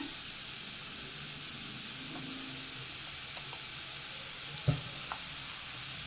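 Sliced onions with salt sautéing in a pan, a soft continuous sizzle and hiss with faint scrapes and one small clack of the stirring spoon, fairly quiet and close.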